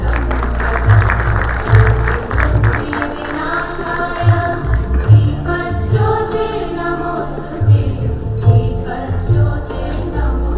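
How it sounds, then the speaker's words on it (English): A big round of applause from a conference audience for introduced dignitaries, steady crowd clapping under music with a thudding low beat. "A big round of applause for all of them"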